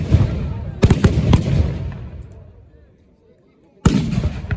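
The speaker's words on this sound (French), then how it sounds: "Avec une salve de tir de la part des soldats royaux." Musket volley fired by royal soldiers at a 1793 battle reenactment in Arlon, Belgium: a few sharp, ragged gunshot cracks close together, then a lull before another shot, over crowd and outdoor noise.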